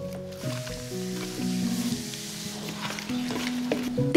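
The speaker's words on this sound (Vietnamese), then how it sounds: "Massage cho gà thấm gia vị nha." Wet, squelching squish of hands working pepper, seasoning powder and fish sauce into raw chicken wings, soft and close, with irregular slippery pulses and faint background hum.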